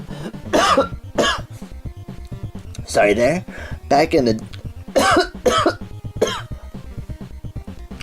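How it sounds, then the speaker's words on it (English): A woman coughs several times in short, harsh bursts scattered across the stretch, close and fairly loud, with a few throat-clearing sounds, while someone talks in between. "she coughing a little bit,"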